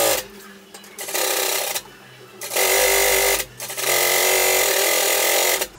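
A sewing machine stitches the side seams of a child's pleated coat in three bursts of loud, fast mechanical whirring separated by short pauses.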